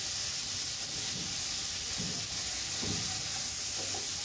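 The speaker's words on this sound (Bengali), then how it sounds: "চিকেনটা দিয়ে আমি পেঁয়াজের সঙ্গে খুব ভালোভাবে একটু ভেজে" Chicken fried with onions in a pan for a chicken and moong dal dish, a steady hissing sizzle with a few soft stirring scrapes, close and without talk.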